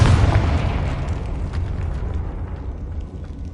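A Confringo blasting spell detonates in Hogwarts Legacy, a loud, heavy boom with a deep low-end rumble that bursts at the start and rolls on as a dense, decaying roar for several seconds, with no voices.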